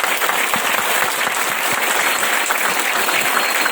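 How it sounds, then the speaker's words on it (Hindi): Steady, dense applause from a seated audience at a motivational talk fills the whole stretch at a constant, fairly loud level with no pauses and no one speaking over it. "तो अपने लिए एक जोरदार ताली होना चाहिए।"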